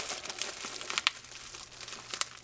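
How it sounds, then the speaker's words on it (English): Bubble wrap and tape being pulled off a uBitx ham radio kit board, a steady close crinkling and crackling with a few sharper snaps, no voices. "Well taped and wrapped in bubble wrap."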